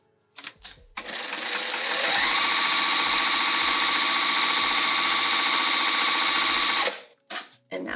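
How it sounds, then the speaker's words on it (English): A sewing machine top-stitches along a fused pocket fold, starting with a few short bursts and then running in a loud, steady, rapid whir for about five seconds before stopping. "We're just gonna top stitch that fold now."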